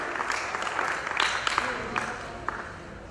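An audience at a school film festival event in Rajasthan claps in a moderate burst of applause, with scattered louder claps and some voices mixed in.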